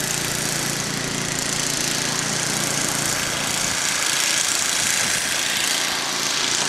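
A 1973 Ariens snow blower engine runs steadily and loud during a blizzard, its even mechanical drone holding without pause throughout, with no voices over it.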